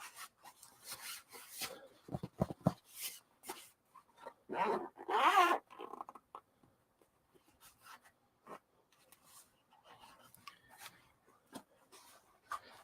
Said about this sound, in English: then you zip your cover closed